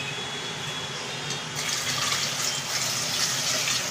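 Water pours steadily into a pot of dal before pressure cooking, a soft rushing gush that swells partway through and continues alone.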